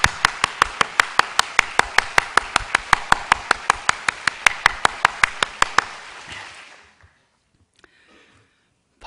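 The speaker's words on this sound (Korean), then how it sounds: "박수 많이 치시니까 좋으시죠?" A church congregation claps in unison to welcome newcomers, a crisp, regular beat of synchronized claps that rings through the hall, then stops abruptly, leaving near silence with a faint stray sound.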